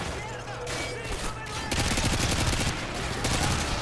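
Rapid automatic gunfire in the video game Call of Duty Modern Warfare 2, dense bursts of shots layered over battlefield noise, continuous and fairly close with brief lulls.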